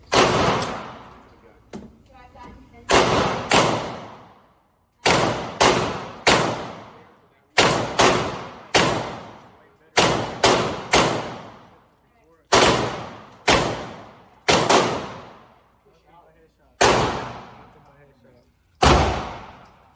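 A B&T KH9 fires close-range shots in sharp, loud bursts, with single rounds and quick doubles and triples spread across the span, each followed by a short decaying echo.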